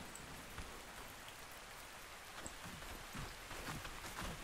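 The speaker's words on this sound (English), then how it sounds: "Look how nice, much nicer the rain looks, by the way." Steady rain falls in the survival video game ARK Survival Ascended, a dense even patter of drops on surfaces that continues without a break and without voices.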